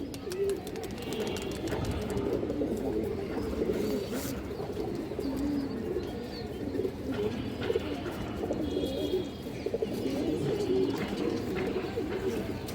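Pigeons coo steadily in a close, busy loft, the soft throaty calls overlapping throughout with faint chirps mixed in among dark-winged, jam-coloured birds.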